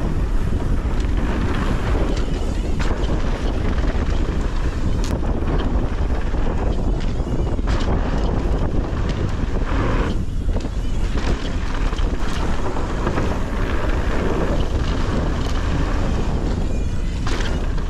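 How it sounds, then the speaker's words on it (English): Strong wind buffets the microphone during a mountain bike ride at Snow Summit bike park, a constant loud roaring rush with gusty bursts throughout and no clear speech. "A little windy."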